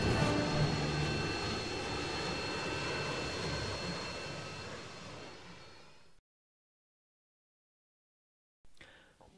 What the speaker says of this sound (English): Mike, Laura, there's a plane.